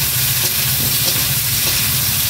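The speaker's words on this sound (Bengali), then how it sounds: "তেলের মধ্যে পেঁয়াজ কুচি দিয়ে দেবো। পেঁয়াজগুলোকে একটু লাল লাল করে ভেজে নেব।" Chopped onions sizzle loudly in hot oil with dried red chilli and whole cumin, a dense, steady crackling hiss that continues without a break, close and alone.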